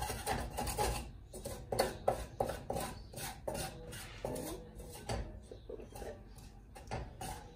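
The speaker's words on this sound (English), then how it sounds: "just scraping up some of the goodness here on the bottom" A utensil scrapes repeatedly across the bottom of a pot of pork stew with root vegetables, loosening browned bits in a steady series of close, rasping strokes with light metallic clinks.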